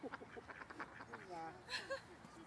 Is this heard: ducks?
yes